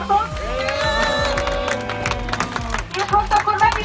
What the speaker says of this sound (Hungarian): kérnék szépen egy üdvözlő magyar nemzeti tapsot